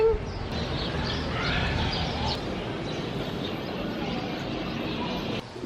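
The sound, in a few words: birds chirping in Cuba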